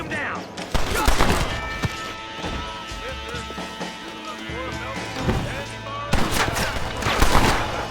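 Gunfire in the western video game Red Dead Redemption, a few loud separate shots spread across the moment with impacts and game effects, under voices talking.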